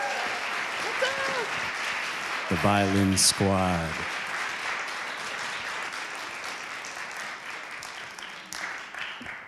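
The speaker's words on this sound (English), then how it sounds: "Give a round of applause." Audience applause for young violinists at a kids' performance show: a steady, dense wash of clapping from a crowd runs throughout, with a voice briefly calling out over it partway through.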